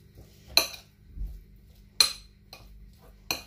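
A spoon clinks sharply against a bowl while olive oil and harissa marinade for Moroccan fried sardines are mixed, four distinct metallic taps spaced apart, with quiet rustling in between.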